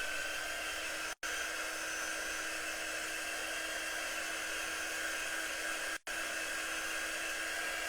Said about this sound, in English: We're going to dry this.